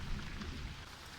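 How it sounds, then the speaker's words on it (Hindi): Heavy rain pours down in a continuous loud wash with a deep rumbling low end, close and steady, with no speech. "घर पे जल्दी आना, बारिश बहुत ज्यादा है।"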